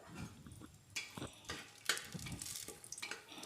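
Cinnamon, bay leaves and cumin sizzle in a pan for chicken pulao, broken by the scrape and clatter of stirring strokes at an irregular pace, close and fairly quiet.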